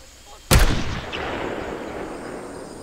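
A single loud gunshot cracks in a tense hostage standoff in a thriller film, a sharp close blast followed by a long fading echo and rumble.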